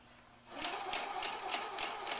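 Sewing machine running a long straight stitch through paper, starting after a brief pause and then steady rhythmic needle punches at an even pace, close and clear with a whirring motor underneath.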